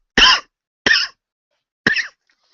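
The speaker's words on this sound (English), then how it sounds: "I just have a cough for some reason" Three sharp, loud coughs from one person, close to the mic, spaced with short pauses and nothing else behind them.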